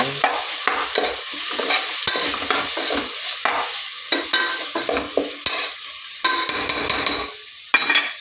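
Chopped tomatoes sauté in a pan for biryani, stirred with repeated sharp scraping strokes over a constant sizzle, close and fairly loud.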